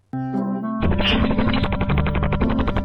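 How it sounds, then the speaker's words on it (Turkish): A shrew's warning call comes as a fast, loud rattle of rapid pulses, like a machine gun, after a short tonal lead-in, close and continuous for a few seconds. "Tehlike hissettiklerinde ise insan kulağının zor algıladığı düşük frekanslı taramalı tüfek sesi çıkarırlar."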